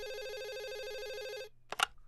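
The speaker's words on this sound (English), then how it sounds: "Let's call her up on the phone. I'm dialing." A telephone rings with a steady warbling electronic ring for about a second and a half after a number is dialed, then cuts off as a receiver picks up with brief clatter.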